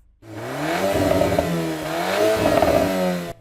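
A Volkswagen Golf R engine revs hard twice, rising and falling in pitch with a loud, raspy exhaust drone, close to the listener.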